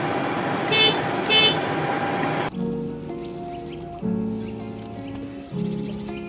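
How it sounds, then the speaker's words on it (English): A turboprop aircraft's horn gives two short car-like beeps, followed by a sudden cut to a quieter interior with tonal hum and soft background voices. "a horn that beeps like a car"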